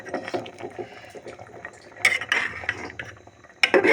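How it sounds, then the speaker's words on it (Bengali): A spoon stirs fried cashews and raisins into payesh, a rice pudding cooking in a pot, with close scraping and clinking against the metal and soft bubbling between the strokes. "ভালো করে পায়েসের সঙ্গে মিশিয়ে দেব"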